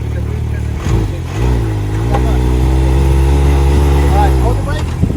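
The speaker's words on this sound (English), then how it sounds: "Back it up on reverse." Can-Am side-by-side engine rumbling steadily in the Glamis sand dunes while backing up in reverse, a loud sustained drone that swells and holds with some throttle changes, with voices talking over it.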